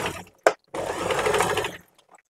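A Singer home sewing machine stitching in reverse gives a brief close mechanical knock, then a steady whirring run of stitching for about a second before it stops.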